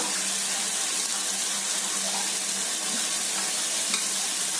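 Beans and carrots sautéing in a kadai for homemade wheat pasta, heard as a steady, even hiss of frying that runs unbroken and close throughout, with no talking.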